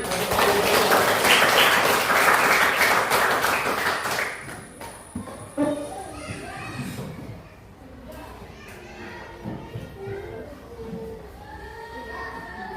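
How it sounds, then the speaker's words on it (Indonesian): Children clap together in a classroom religious lesson in Indonesia: a loud, dense burst of applause for about four seconds, then it thins into scattered claps and lively children's chatter. "Bagus, tepuk tangan."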